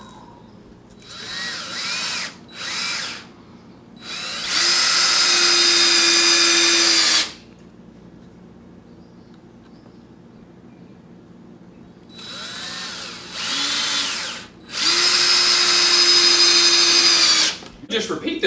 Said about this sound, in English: I'm just going to put probably a screw here and a screw there.